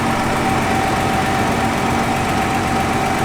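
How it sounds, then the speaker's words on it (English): A Nissan GT-R R35 engine idles loudly and close, with a steady low drone and a faint repetitive knocking from the front underneath. "getting a little knock as well from the front now"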